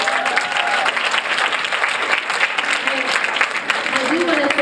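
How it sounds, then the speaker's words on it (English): An audience at a Skinless Project event at Neiman Marcus Oakbrook breaks into lively applause for Neiman, close dense clapping with scattered cheers and voices mixed in. "Can we get a round of applause for Neiman?"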